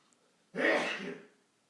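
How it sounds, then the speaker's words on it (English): A single sneeze, fairly close and moderately loud, a short burst of breathy noise that fades over about a second. "My dad sneezes loudly."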